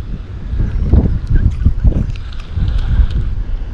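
Gusty wind buffeting the microphone outdoors on a fishing outing, loud, uneven low rumbling bursts that rise and fall throughout.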